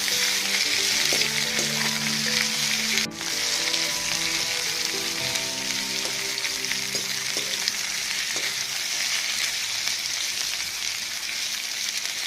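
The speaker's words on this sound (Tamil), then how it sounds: "இப்போ வெட்டி வச்சிருக்க மாங்காயை போட்டுக்கோங்க. நல்லா ஃப்ரை பண்ணிக்கோங்க." Chopped raw mango fries in a hot pan, a continuous loud sizzle with scattered crackles, and one sharp clink partway through.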